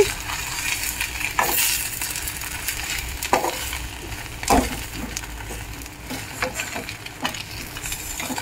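Goat brain fry cooks on low heat in a pan into soft, mushy pieces, giving a steady, close sizzle with a few sharper stirring scrapes and clatters.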